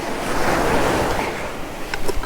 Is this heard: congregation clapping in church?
no